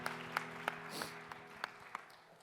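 A church congregation at a Sunday young-adults worship service claps in an even rhythm, faint sharp claps about every third of a second over soft sustained musical tones.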